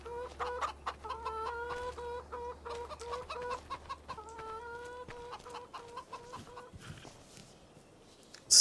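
Chickens in the Farming Simulator 25 video game cluck and chatter in a steady series of close, rhythmic calls, fading toward the end before a sudden short loud burst.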